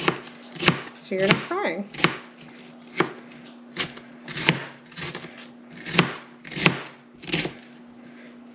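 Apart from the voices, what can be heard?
knife chopping onion on a cutting board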